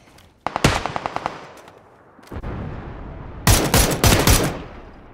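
VSS rifle shots in the battle royale game PUBG: a quick run of sharp cracks, then a rumbling gap and a final louder cluster of rapid shots and explosive bangs, close and with no talk.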